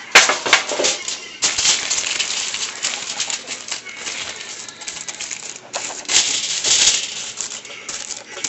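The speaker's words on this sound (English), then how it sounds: "I'm going to aluminum foil my trays here." Aluminum foil crinkles and rustles while being spread over baking trays in a home kitchen, with dense bursts of crackling close to the microphone, varying in loudness over several seconds.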